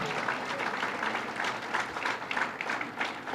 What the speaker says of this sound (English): Let's give a big round of applause to our Kendu County Executive, Joni Mahoney, who does a great job.